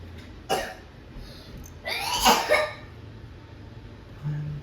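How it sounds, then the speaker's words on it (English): A child coughs twice, first a single short cough, then a longer harsh fit, up close in a quiet room. "I am coughing a lot"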